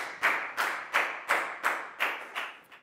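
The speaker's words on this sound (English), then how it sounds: "big round of applause for Nadia too" Slow, rhythmic unison clapping from a Year 4 maths class for Nadia: about eight evenly spaced claps, close and sharp, with nothing else heard.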